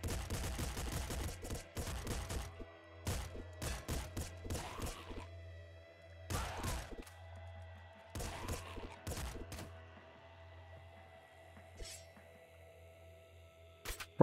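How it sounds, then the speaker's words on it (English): Frost machine gun fired in the video game Nuclear Throne, with loud rapid bursts of automatic gunfire broken by short pauses and layered over electronic game sounds. "Frost machine gun, I think."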